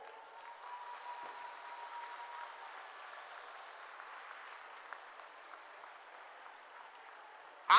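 An audience in Hailakandi applauds for the Assam chief minister, a faint and steady wash of clapping heard from a distance, with no talking over it.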